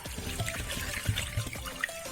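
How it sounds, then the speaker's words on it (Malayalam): A litre of water trickles into a pot of chicken soup seasoned with turmeric, a soft, fairly quiet pour that burbles briefly at close range. "പിന്നെ നമുക്ക് ഇതിലേക്ക് 1 ലിറ്റർ വെള്ളം ചേർത്ത് കൊടുക്കാം."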